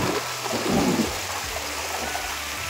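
Cold mountain stream on the Rudranath trek in snowy Uttarakhand, its water rushing steadily as broadband hiss with a brief louder splash early on, close and continuous.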